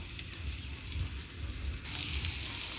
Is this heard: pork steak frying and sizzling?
yes